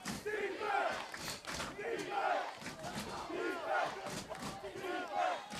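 A college football crowd in the third quarter, Fitchburg State against Becker College, roars and chants in rising, swelling waves, with loud shouts surging every second or so.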